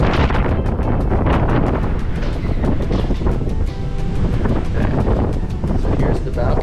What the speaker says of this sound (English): the wind, since we're at the front of the ship, is pretty strong